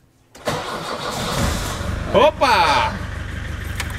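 An aerial work platform's engine cranks and catches after sitting idle, then settles into a steady medium-pitched idle, loud and close, with a man giving short exclamations over it.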